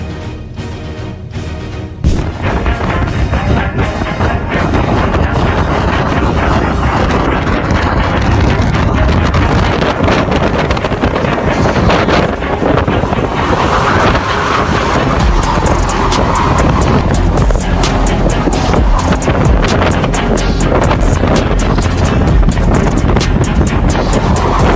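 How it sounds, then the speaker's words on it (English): Strong storm wind roars continuously and loudly, buffeting the microphone in heavy, rumbling gusts after a short quieter opening. "If the wind is so strong that the motorbike runs without a driver, it's best to go inside immediately and lock the door tightly."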